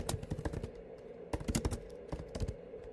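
Keys tapped on a computer keyboard in bursts of quick clicks separated by short pauses, close and clear, with no voices.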